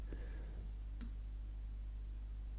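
One sharp key press on a computer keyboard while working in Illustrator, a single crisp click against a quiet, humming room.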